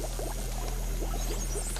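Liquid nitrogen poured into a flask, a soft, faint gurgling pour with light bubbling and hissing bursts over a steady low hum, heard alone without talking.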